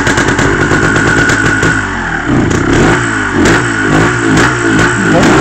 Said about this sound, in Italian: Metti in moto, sentiamo che bella carburazione che c'ha.